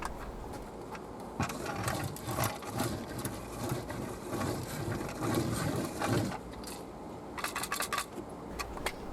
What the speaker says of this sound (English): now I'm going to show you how the handheld carpet roller cleans them right up